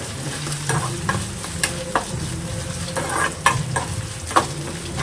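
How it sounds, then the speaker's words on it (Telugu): Onions and masala fry in a pan for a beef brain fry, giving a steady close sizzle with scattered clicks and scrapes as the mixture is stirred, and no voices. "ఇలా గోల్డెన్ బ్రౌన్ కలర్ వచ్చేంత వరకు ఆనియన్స్ని మసాలాని బాగా వేయించుకున్న తర్వాత"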